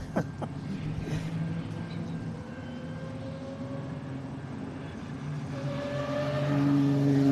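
A Dodge Intrepid fitted with headers running at full throttle at the American Speed Festival, a sustained loud engine drone with rising harmonic whine building toward the end.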